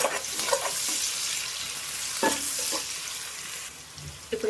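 Thinly sliced onions with a teaspoon of salt fry in hot oil for a chicken fry, with a steady close sizzle broken by several scraping stirs of a spoon in the pan.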